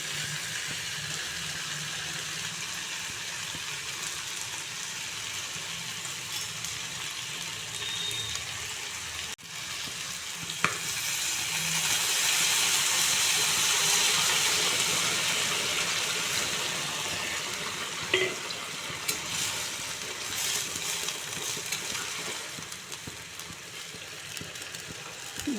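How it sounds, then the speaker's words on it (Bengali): Hot water is poured into a pan of eggplant and small fish curry, a continuous close gushing hiss that swells in the middle and then eases off. "এখন আমি এতে গরম জল দিয়ে দেব।"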